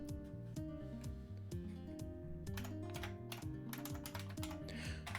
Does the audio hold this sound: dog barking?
no